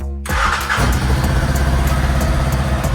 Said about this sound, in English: And then you push the start button.